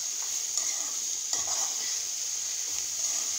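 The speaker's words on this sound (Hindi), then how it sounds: "मैं इसको अच्छे से मिक्स कर दूंगी।" Spiced okra (bhindi) is stirred in a pan with steady sizzling and frying and a few soft spatula scrapes, close and continuous, with no talking.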